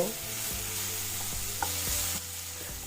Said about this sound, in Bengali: টমেটো ভেজে নেব তবে টমেটো একদম নরম করে ভাজা যাবে না